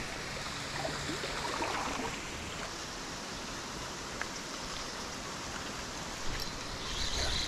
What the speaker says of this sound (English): Got a water, little waterfall coming over there.